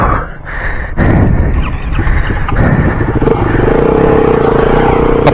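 A BMW G450x or CCM GP450 trail motorcycle coasts over a rocky ledge with the clutch pulled in, its engine note loud and close with clatter and knocks as it crosses the rocks, settling into a steady idle hum.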